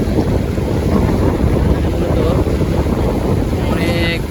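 Large ocean waves at Inani Beach roar loudly and continuously, heavily mixed with wind buffeting the microphone.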